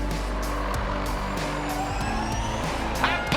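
Formula E electric race cars, one a TAG Heuer Porsche, battle side by side on a corner exit at the London race, producing a loud, high whine that climbs in pitch as they accelerate, with a brief tire squeal near the end.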